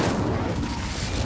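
An Incendio fire spell is cast in Hogwarts Legacy, producing a dense, loud, rumbling burst of flame that fills the brief moment without a clear break.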